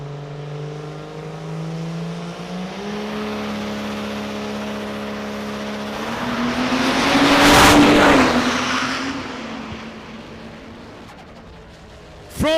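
A diesel-powered Corvette race car on a drag strip, its engine droning and climbing through several gear shifts as it accelerates, swelling to a loud roaring pass around the middle before fading into the distance, with a sharp burst at the end.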